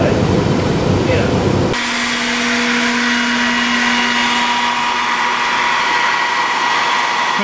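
A hair dryer runs steadily up close, its constant airy whir and hum used to dry out a 1930s Delta DP220 drill press part, loud and unbroken after an abrupt change in tone early on.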